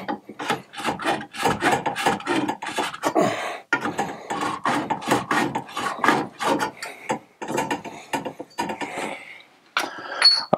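A tool chamfers the outside edge of a 3/4 inch pipe end for a SharkBite fitting, a rapid series of rasping, filing strokes, close and steady, pausing briefly near the end with no talk.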